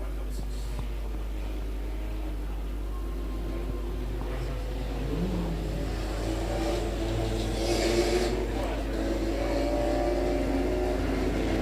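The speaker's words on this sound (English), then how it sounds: "So it's the finals of the hot rods." Hot rod stock cars in a regional race finals, their engines droning and revving at middle distance in a continuous wash, rising slightly toward the end, with faint talk underneath.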